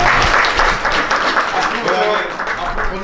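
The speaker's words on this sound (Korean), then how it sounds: "박수 부탁드리겠습니다" A lecture audience at a business leaders' course applauds loudly and steadily as voices talk over the clapping.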